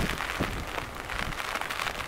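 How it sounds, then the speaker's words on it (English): Rain falling at a harbor, a steady close hiss of raindrops hitting surfaces with gusty wind buffeting, brief and without talk. "this wind is blowing the raindrops around pretty wildly"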